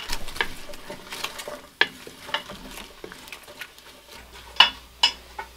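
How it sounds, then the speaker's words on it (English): Onions cooking in oil in a pot in a tiny house kitchen give off a soft, steady sizzle, broken by scattered sharp clinks and taps of a utensil against the pot. "those are going to start to simmer in with the onions and oil there"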